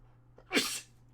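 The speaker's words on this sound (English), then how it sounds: "Oh, I gotta sneeze." One sharp human sneeze bursts out close and loud, with a short breath just before it and quiet all around.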